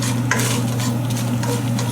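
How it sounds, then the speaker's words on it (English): Red chilies fry in hot oil in a pan alongside crushed Sichuan peppercorns for kung pao chicken, giving a steady, close sizzle with light stirring scrapes throughout and no voices. "we'll fry that for a minute or so till the red chilies become dark, a little darker"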